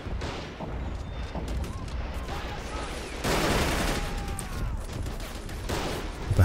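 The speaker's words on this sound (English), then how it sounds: "the MGs are now ripping in" Machine guns firing in a WWII video game battle on the outskirts of Stalingrad, bursts of distant automatic fire over a constant battlefield din, swelling louder midway.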